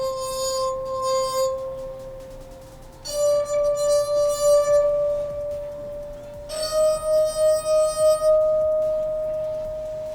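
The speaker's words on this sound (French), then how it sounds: "Commençons par l'expérience du verre musical ou verre qui chante." Three water-filled stemmed wine glasses sung in turn by rubbing their rims, each giving a pure sustained tone, the pitch stepping higher with each glass, with a pulsing swell on the later notes.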